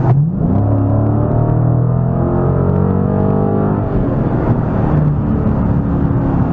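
A powerful 485-horsepower Dodge Challenger T/A 392 engine roars close by, climbing in pitch as it accelerates, then dropping to a deep rumbling idle.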